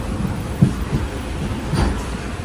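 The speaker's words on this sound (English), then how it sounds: "भाई बहुत स्पीड से आया है ट्रेन." Train passing at speed on an Indian railway route in Goa, a continuous low rumble of wheels on rails with a few clattering thumps from the cars, steady and fairly close, no talk.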